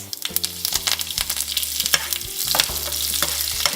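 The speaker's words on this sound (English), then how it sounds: "if the oil is really hot, the mustard seeds will splutter right away" Mustard seeds, roughly chopped dried red chilies and curry leaves spluttering in very hot oil, rapid crackling pops and hissing sizzle with stirring clatter, close and continuous.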